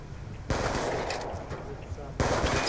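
Rapid automatic gunfire from Black Ops 2 on PC rattles out in two loud bursts, close and dense, with game sounds between.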